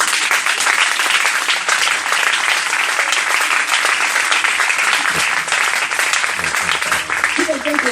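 A church congregation applauds for Jesus in sustained, dense clapping that stays loud and even throughout, with voices blending into the crowd noise.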